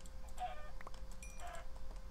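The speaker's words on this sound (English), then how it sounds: "Oh, chickens." Chickens in a Minecraft-style game cluck faintly in short bursts, a few soft clucks spread across a quiet stretch with low background hum and no talk.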